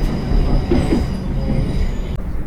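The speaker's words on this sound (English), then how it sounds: "Today's train is the 1520 from Bournemouth, arriving into London Waterloo at 1720" A Bournemouth to London Waterloo train rumbles along the rails with a loud, steady roar, wheels squealing and clattering close by throughout.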